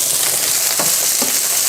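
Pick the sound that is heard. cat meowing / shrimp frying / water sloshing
shrimp frying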